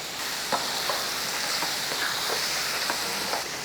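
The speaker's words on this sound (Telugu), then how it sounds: "మన కారం ఆయిల్లో వేయండి మిగిలిన కారం వన్ టీ స్పూన్ కారం కలర్ కోసం మనం మ్యారినేట్ చేసుకున్న మష్రూమ్ నేను హడావుడిగా వేసేసాను" Marinated mushrooms fry in oil with chili powder, a steady close sizzle with soft periodic stirring scrapes.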